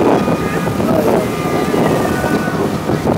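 A motorboat cruises on a lake among the canyons of Capitólio, giving a steady close roar mixed with heavy wind buffeting throughout.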